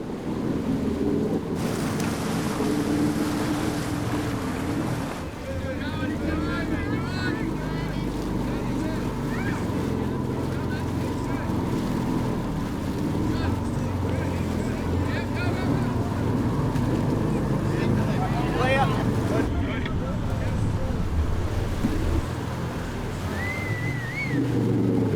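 A 4WD vehicle pushes through a deep water crossing on the Old Telegraph Track at Nolans, a steady loud churn of engine and surging water that runs the whole time, with a few faint voices in the background.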